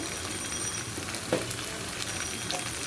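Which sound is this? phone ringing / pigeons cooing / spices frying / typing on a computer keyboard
spices frying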